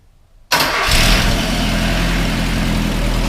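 A Mazda B2000 pickup fitted with a Weber carburetor cranks and fires after a brief quiet moment, then settles into a loud, steady engine roar close by.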